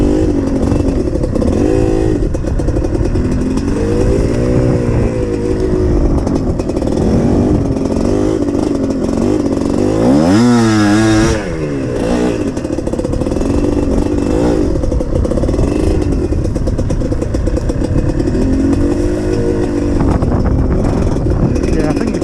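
A GPX TSE 250R motorcycle engine drones steadily while riding in low gear, its carburetion not yet tuned, with one sharp rising rev and gear change near the middle before settling back to a constant buzz.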